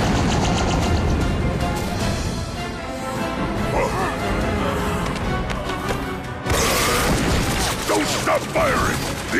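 Rapid cartoon gunfire rattles during an attack on a fort, with bursts of shots and mechanical clatter that run nearly continuous and loud, while voices shout over the barrage.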